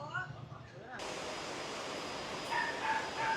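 A newly bought puppy yips, barks softly and whimpers in short bursts amid steady background noise at the Cartimar pet market in Pasay, with people talking nearby.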